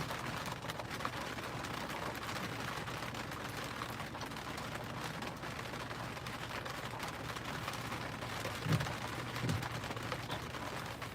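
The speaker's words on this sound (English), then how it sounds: "It is raining right now." Rain falls outside as a steady, faint, continuous hiss, soft and distant, with no talking over it.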